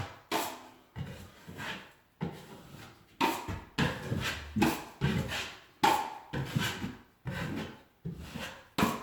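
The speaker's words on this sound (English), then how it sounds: "I use my 10-inch knife and I just coat this whole thing with a nice bed of mud." A 10-inch drywall knife drags joint compound across a wall patch in a steady run of close, rasping wipe strokes, each swelling and cutting off abruptly, with no voices.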